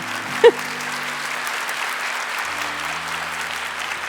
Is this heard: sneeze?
no